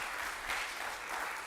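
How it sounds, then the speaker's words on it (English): A short burst of applause from a congregation at a Sunday church service, even, moderate clapping that fills the moment without any voices. "That's another round of applause."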